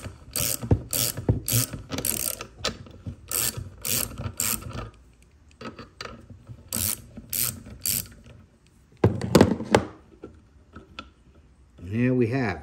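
A socket wrench ratchets in bursts of quick, close clicks while tightening to pull the valve from a corroded 2004 Troy-Bilt pressure washer, with pauses between runs and brief talk near the end.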